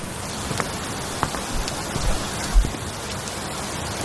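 Steady rain falling outdoors, a dense even hiss with scattered heavier drops and a few soft thumps, continuous throughout with no voices.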